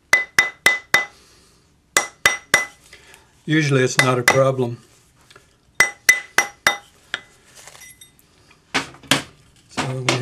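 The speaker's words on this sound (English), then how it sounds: "So just turn it so that you're hammering on the smooth side of the mandrel." Metal ring hammered on the smooth side of a steel ring mandrel for an inside-out ring: sharp, ringing clinks in quick bursts of three to five strikes, close and loud, with a brief spoken remark between bursts.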